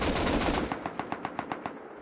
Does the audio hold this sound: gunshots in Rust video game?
yes